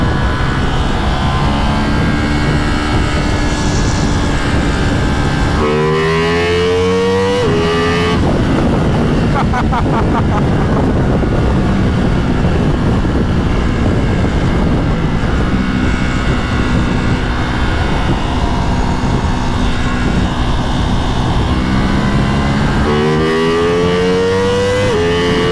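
Ducati Multistrada V4 motorcycles riding on scenic California roads, a loud steady engine roar with gear changes and revving rises and falls, close and continuous throughout.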